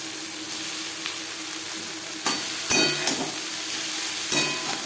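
Chopped amaranth stems are stir-fried with onion and green chilli in a hot pan, giving a steady, close sizzle broken by a few scraping stirs of the spatula.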